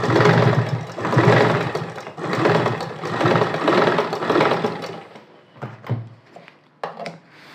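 A sewing machine stitches a blouse shoulder seam, running steadily with a dense mechanical whir, then slowing into a few separate clicks and short bursts as it stops.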